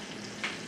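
Sizzling and bubbling from a boiling pan of whiskey sauce for Cornish game hen as heavy cream is poured in, a steady close frying hiss with a brief louder swell midway.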